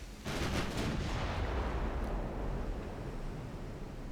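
Allied units fire guns in a Japanese classic campaign of a war strategy game, a dense, continuous roll of booming gunfire and artillery that stays loud and steady throughout.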